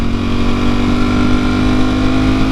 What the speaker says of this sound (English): Engine braking